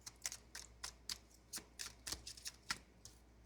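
Oracle cards being shuffled during a tarot reading: a run of quick, soft papery riffles and snaps repeating irregularly, close and quiet with no voices.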